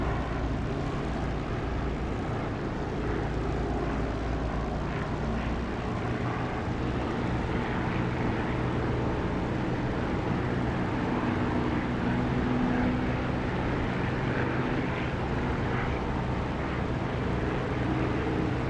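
Steady broadband drone of an aircraft engine and airflow in the DCS flight simulator game, with landing gear and flaps lowered; a continuous, even rumble fills the whole stretch with no talking.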